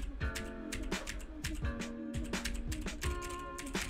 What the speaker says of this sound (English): type on your keyboard, and as you can see here when I'm typing, that the microphone picks up the sounds.